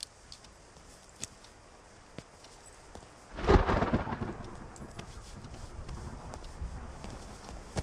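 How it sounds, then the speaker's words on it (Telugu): Heavy rain patters softly in the background until a loud thunderclap breaks in midway and rolls off into a long fading rumble. "వర్షం ఇప్పుడప్పుడు తగ్గేటట్లేదు."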